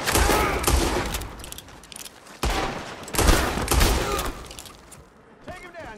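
Gunfire in the video game Red Dead Redemption 2: a volley of loud, sharp shots in several dense bursts, with voices mixed in and a quieter stretch between the volleys.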